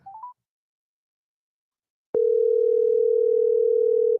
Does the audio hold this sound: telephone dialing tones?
yes